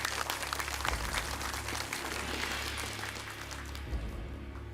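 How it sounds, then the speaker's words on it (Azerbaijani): Applause breaks out for a dozen contestants on a televised quiz show, a steady broadband patter of clapping that holds at an even level throughout, with a low hum beneath it. "12 nəfərin hamısını alqışlayırıq"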